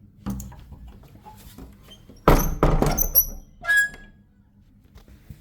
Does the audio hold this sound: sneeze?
no